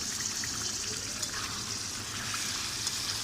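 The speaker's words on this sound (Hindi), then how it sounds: "इसके ऊपर ढक्कन रख कर हमने 5 मिनट पकाना है ताकि गोश्त के अंदर अच्छी तरह मसाले चले जाए।" Meat coated in spices cooks in a lidded pot, giving a steady, moderately loud sizzle and bubbling simmer that keeps an even texture from start to finish.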